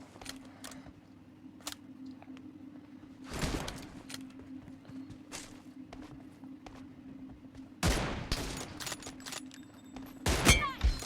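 Gunfire in a shooter video game: scattered sharp shots and brief bursts over a low steady hum, some loud and close, others fainter, in an irregular rhythm.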